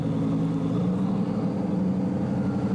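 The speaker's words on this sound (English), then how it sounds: "It sounds amazing with the Mansory exhaust system." Supercar engine fitted with a Mansory exhaust system, idling loud and close in a London street, a steady deep rumble that holds throughout without pause.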